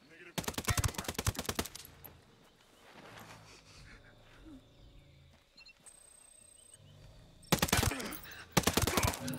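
Automatic gunfire bursts in the shooter video game Ghost Recon: Breakpoint, loud rapid volleys at the start and again near the end, with quieter game ambience and movement sounds between them.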